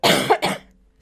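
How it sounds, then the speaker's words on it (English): A person with a cold coughing twice in quick succession, close and loud, the second burst shorter, followed by near silence. "you may hear coughing in the background too"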